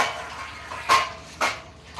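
Three short metallic clinks of dishes knocking together, spaced about half a second apart over a faint background hum.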